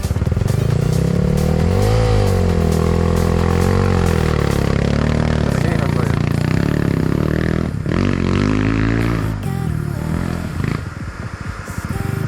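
An enduro motorcycle engine revs hard in second gear on an off-road trail. It drones loudly and continuously, rising and falling in pitch with a clattering edge, and cuts out briefly near the end.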